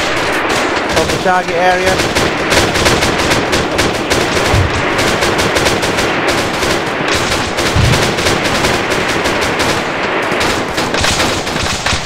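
Sustained machine-gun and rifle fire with bursts and heavy impacts in a co-op military game, continuous and loud throughout, with players talking over the din.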